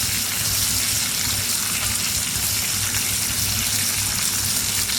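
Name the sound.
onions and rosemary frying in cast iron skillet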